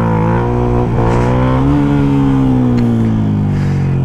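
Yamaha MT-125 motorcycle engine revving loudly and steadily through a wheelie practice run, its pitch climbing and then holding high before easing slightly, close and continuous with no talk.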